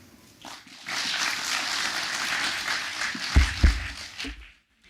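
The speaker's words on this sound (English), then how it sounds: "Let's give His Excellency another round of applause as he takes his seat." Brief round of applause at a multisectoral convening in Central Kenya, a few seconds of moderate clapping as a dignitary takes his seat, with a couple of thumps near the end before it cuts off.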